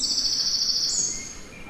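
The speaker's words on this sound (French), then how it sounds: "je vous passe par exemple un oiseau qui est bien connu, Troglodytes" A recorded wren (Troglodytes) song plays as a rapid, high-pitched trill that ends in a sustained note, heard alone over faint background hiss.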